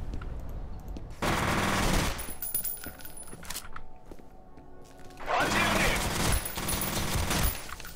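Automatic rifle fire from the video game F.E.A.R. comes in two long, loud sustained bursts with a quieter stretch between them, and someone talks over the action.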